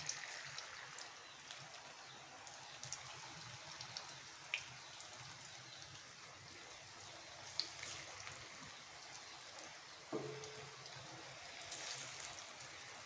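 Monsoon rain falls outside in a steady, soft hiss, with a few faint isolated drips over the constant wash and no talking.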